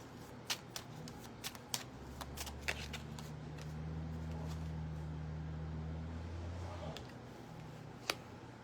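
Oracle cards are shuffled and drawn in a close, steady riffling shuffle, with a few sharp card snaps and taps scattered through, and a low hum underneath.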